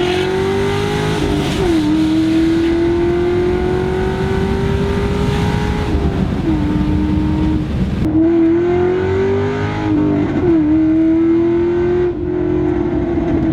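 A 460 hp Chevy SS V8 engine roars loudly as the car accelerates hard, pitch climbing steadily with brief dips at gear shifts, heard from inside.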